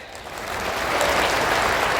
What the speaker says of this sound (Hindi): तालियों की गगनभेदी गड़गड़ाहट से जोरदार अभिवादन करें।